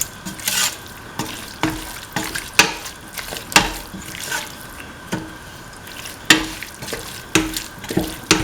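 A spatula clacks against a pan while a beef, potato and rice mixture fries, with sharp irregular scraping strikes repeating over a steady low sizzle, close and fairly loud.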